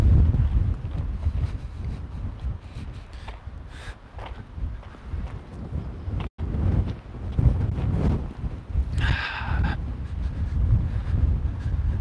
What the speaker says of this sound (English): the wind is back, and it's on my back right now